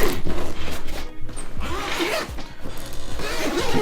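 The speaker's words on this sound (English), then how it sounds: "grab onto the zippers that are parked here at the low right side of the bag," Carrymove backpack's expansion zipper pulled around the bag in a steady, close rasping run of about four seconds, with small uneven catches along the way and no talking.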